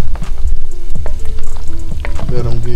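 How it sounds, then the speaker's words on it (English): Smoked oxtails stirred through thick gravy in a pan: close, loud bubbling sizzle broken by scraping and knocking of a spoon, with a brief vocal sound near the end. "We're just gonna mix our oxtails around in that good gravy."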